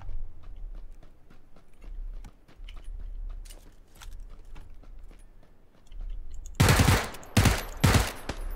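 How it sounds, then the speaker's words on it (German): Three loud bursts of gunfire from the video game PUBG ring out near the end, each a sharp cluster of shots, after a stretch of quieter in-game footsteps and ambient rumble. "Schüsse."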